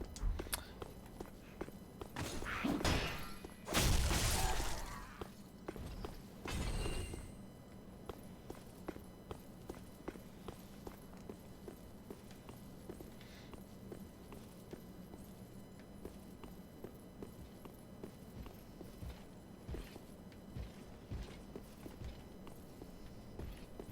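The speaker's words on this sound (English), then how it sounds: "What were those loud footsteps?" Heavy armored footsteps in Dark Souls III, a burst of loud thudding impacts early on and then a steady run of quieter, regular steps continuing through the rest of the stretch.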